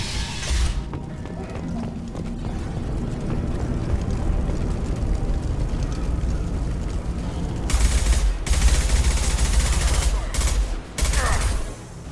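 Blue Suns mercenaries and Vorcha trade gunfire in Mass Effect 2, a steady rattle of distant shots and bursts under a spoken voice, with louder, nearer volleys near the end.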